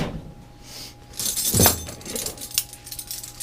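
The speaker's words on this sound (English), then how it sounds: "So I'll open that bag." A tool bag holding wrenches and electrical tape is opened, giving a metallic jangle and clink of tools shifting, with a loud burst of rustling and clattering partway through and softer rattles afterward.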